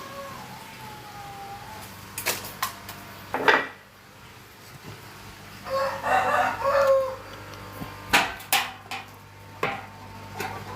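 Backyard chickens at a home livestock yard cluck in scattered bursts, with a rooster crowing midway; light clattering of pots or dishes breaks in between, fairly close and without talk.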